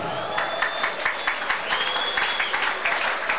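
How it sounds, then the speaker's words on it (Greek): Stadium crowd applauding a substitution as Dinamo Bucuresti bring on a player during a UEFA Cup football match, a steady wash of clapping with scattered sharper claps and a faint whistle tone, heard from the broadcast at a distance. "Ένα ζεστό χειροκρότημα, όπως ακούσαμε και από τα μεγάφωνα, για την Δυναμό Βουκουρεστίου"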